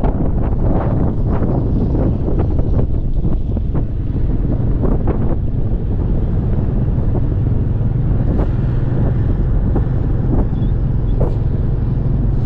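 Strong wind buffeting a microphone at a high viewpoint in rainy, cold Huế, a constant loud roar with gusty thumps throughout and no speech.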